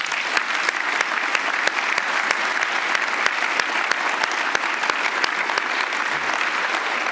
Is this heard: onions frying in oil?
no